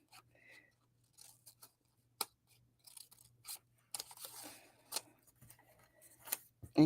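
Scissors trimming paper along a black line during a craft session, a sparse run of crisp snips and small crunching cuts separated by quiet pauses, close and soft.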